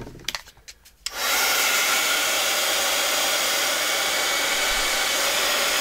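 A heat tool switches on and blows steadily to heat-set raised chalk paint in a journal. After a few faint clicks, a loud, constant airy roar begins and holds until the end.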